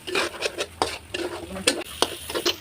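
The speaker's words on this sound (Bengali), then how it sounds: "এখন ভালোভাবে ভেজে নেব" Flattened rice (chira) with eggs being stir-fried in a pan, irregular scraping and stirring strokes of a utensil against the pan, close and moderately quiet.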